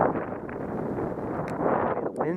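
Wind on the Potomac River buffets the microphone in a steady rough rush during a post-spawn bass fishing tournament. A faint voice sounds near the end.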